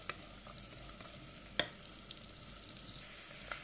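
Carrots and peas fry in ghee as a soft, low sizzle, punctuated by one sharp clink of a stirring utensil against the pan and a few lighter taps.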